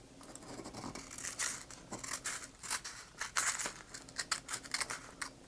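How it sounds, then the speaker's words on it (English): Scissors cutting down the middle of a folded sheet of origami paper, a series of quiet close crisp snips and paper crinkles in an irregular rhythm. "So we use a pair of scissors,"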